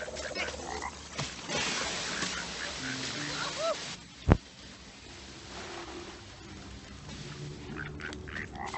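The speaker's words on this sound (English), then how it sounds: "Nice frog ground pound" Cartoonish frog croaks ring out from the Ice Age 2: The Meltdown video game during a ground pound, with a sharp thud midway, all layered over busy game music and effects while a person talks throughout.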